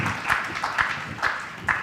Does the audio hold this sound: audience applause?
yes